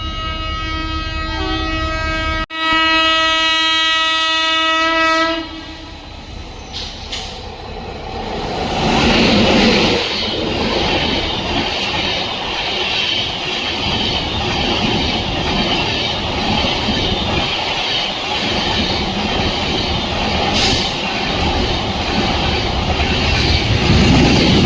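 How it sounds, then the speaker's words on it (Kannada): The flower-decorated SMVT Bengaluru–LTT Express inaugural special with new LHB coaches arrives at a station: a sustained horn sounds first, then a loud, continuous rumble and clatter of the coaches rolling in close by. "ನೋಡಿ, ಹಳೆ ಟ್ರೈನ್ ಕೂಡ ಬಂತು ಇನಾಗ್ರಲ್ ಸ್ಪೆಷಲ್."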